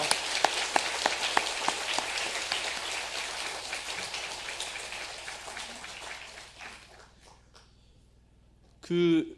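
A church congregation at Sunday worship claps to welcome a guest: many hands in a dense patter that gradually thins and fades over about seven seconds, followed by a brief spoken voice.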